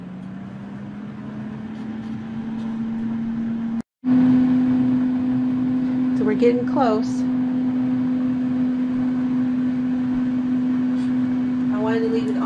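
An Instant Vortex air fryer runs with a steady, moderate fan hum and a constant whirring tone, briefly cut off once and then resuming, while a person talks over it.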